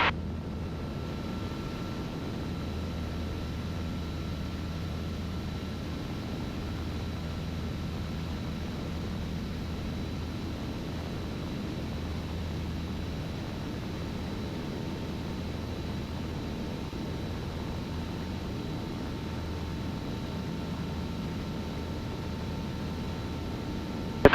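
Steady broadband drone inside a small airplane cabin descending toward mountains, with a constant low engine hum and faint tonal whine running evenly throughout, no voices heard.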